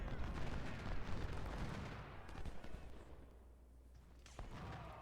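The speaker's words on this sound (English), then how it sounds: "that cannon is now shooting in our back" Dense, continuous cannon and musket fire rolls through a Civil War battle in Ultimate General Civil War at Parker's Crossroads, heavy at first and then thinning slightly, with the crackle of distant volleys persisting throughout.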